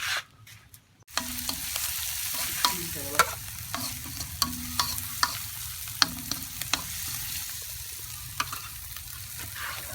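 Cobra curry being stir-fried in a pan, a steady sizzle with repeated scraping and clacking of the spatula against the pan, close and continuous after a brief quiet start.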